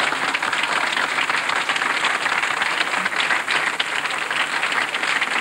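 Dense, sustained applause fills a theatre audience at the end of the season, loud and even throughout with no pauses.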